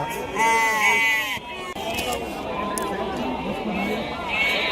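Lambs bleat loudly and repeatedly at a village livestock market, with wavering cries over a busy background of crowd chatter and talk.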